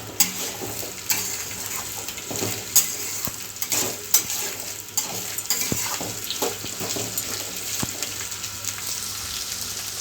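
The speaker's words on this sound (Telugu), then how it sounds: "ఫ్రై చేసుకుందాం." Ivy gourd (tindora) frying in a pan, a continuous close sizzle broken by sharp spatula clinks and scraping strokes against the metal, with no one speaking.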